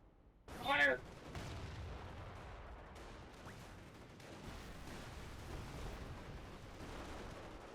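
Artillery and gunfire in the World War II strategy game Company of Heroes: one loud, sharp blast lands near the start, then a low, continuous rumble of distant battle noise rolls on.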